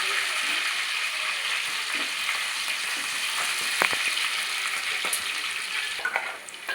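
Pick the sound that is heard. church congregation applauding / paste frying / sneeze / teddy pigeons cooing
paste frying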